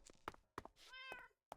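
A cat gives one clear, drawn-out meow amid several soft thunks and knocks, quiet and fairly close.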